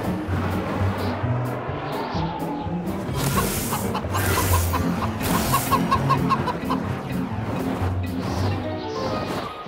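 Cartoon chicken clucking in a children's animated show, repeated busy clucks over a dense bed of music and sound effects, loud and continuous.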